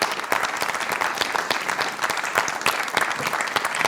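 Applause from an audience at a Ch'ti TEDx-style event hall, dense and steady with sharp individual claps standing out, continuing loudly throughout without any talk.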